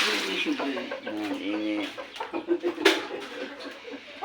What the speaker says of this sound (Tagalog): Amo nga manok niya, oh.